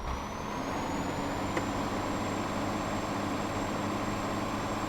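A Mercedes Axor 1840 truck in Euro Truck Simulator 2 reverses slowly through congested traffic on a village road, with a steady engine drone and a faint, constant high whine, loud and alone with no talk.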